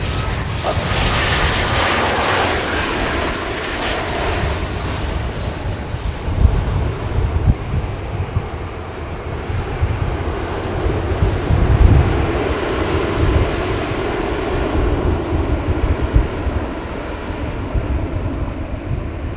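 A Sun Country Airlines Boeing 737-700/800 roars on the runway at St. Kitts airport. The loud jet engine noise fades slowly over about twenty seconds, with wind buffeting the microphone throughout.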